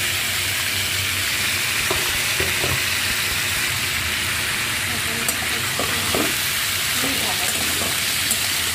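Panch phoron, hing, bay leaf, ginger and a green chilli fry in oil with a dense, steady close sizzle. Occasional stirring clinks and scrapes cut through, and faint voices sit low in the background.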